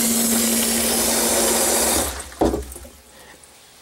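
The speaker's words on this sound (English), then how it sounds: "So we can start to hear gurgling." Pump emptying a barrel of aquarium waste water in a basement fish room. A loud steady whirring runs for two seconds and then cuts out, followed by a sharp gurgling slosh and quieter trickling.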